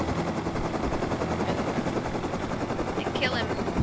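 A helicopter in the video game Rust thrums continuously and loudly, with gunfire-like bursts mixed in and brief voices.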